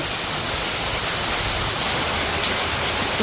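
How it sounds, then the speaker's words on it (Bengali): Heavy rain pours down in a Bangladeshi village on a cool November day, a dense, loud and continuous hiss of falling water with no talking over it. "আজকে বলে নভেম্বর মাসের এক তারিখ শীতের দিন কি বৃষ্টি নামছে"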